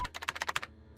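Brief burst of keyboard typing as numbers are punched into a website code lock: about eight quick, crisp key taps in a fast, even rhythm, close and fairly quiet, then a short pause and one final tap.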